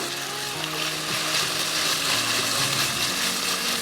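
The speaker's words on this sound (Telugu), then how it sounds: "1/2 ఇంచ్ ముక్కలా కట్ చేసి పెట్టుకున్న ఆలు, చిన్నగా కట్ చేసి పెట్టుకున్న క్యాప్సికమ్ ముక్కలు, చిన్నగా కట్ చేసి పెట్టుకున్న బీన్స్ వేసుకోవాలి" Cubed potato, chopped capsicum and beans frying in a pan for phool makhana rice, a steady close sizzle with light stirring scrapes throughout.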